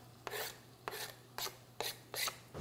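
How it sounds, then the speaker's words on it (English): Garlic finely chopped with two knives, five evenly spaced scraping chops on a board, soft and close, with a low steady hum behind them. "we're gonna get the garlic and kind of cut them down finely. I prefer using two knives like this"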